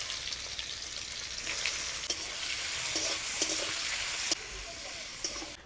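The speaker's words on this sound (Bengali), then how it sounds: "তেলের মধ্যে দিয়ে দেবো 2টো শুকনো লঙ্কা," Sliced onions, two dried red chillies and bay leaf fry in hot mustard oil in a village-style kitchen, a steady bright sizzle with occasional crackles and stirring clinks, close and continuous.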